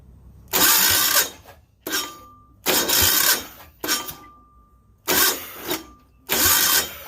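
A Yanmar L100 diesel generator engine being cranked over repeatedly, six loud close bursts of starter whir and compression chugging, each a second or so long and separated by short pauses, with no talking.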